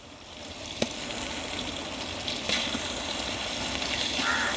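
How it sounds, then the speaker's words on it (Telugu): Ginger paste frying in a large pot while cooking chicken biryani, a steady soft sizzle with a couple of faint clinks and no voices. "అంతా వాడిపోయింది అల్లం పేస్ట్ వేసుకుందాం"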